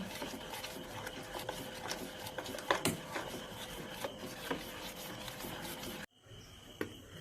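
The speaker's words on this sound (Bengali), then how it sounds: "এই যে আমার গ্রেট করা সবজিগুলো আমি খুব ভালো করে মিক্সড করে নেব ডালিয়ার সাথে।" Grated vegetables are mixed by hand with daliya (broken wheat), giving a soft, quiet, continuous rubbing and stirring rustle with small irregular squelches and taps close by, then a brief near-silence.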